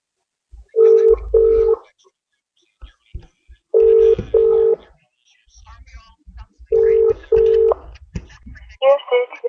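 Telephone dialing during a Glasgow radio phone-in: three paired bursts of steady tone with gaps between, a few brief clicks, then a faint voice near the end.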